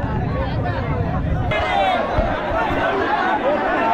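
Dense crowd hubbub inside the Mumbaicha Raja Ganesh pandal in Mumbai, many overlapping voices chattering close by with a steady, loud wash of babble throughout.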